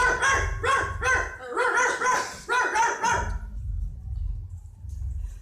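A dog barks repeatedly in a quick burst of sharp, loud barks, then stops, leaving a low background rumble.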